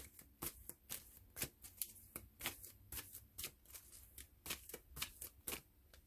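A deck of tarot-style cards being shuffled and a card drawn, a fast run of crisp riffling snaps and flicks, close and fairly quiet.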